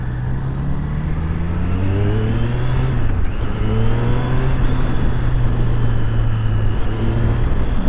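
Triumph Street Triple 765 RS engine revving up through the gears with a quickshifter, a loud rising whine that briefly dips at a shift before climbing again.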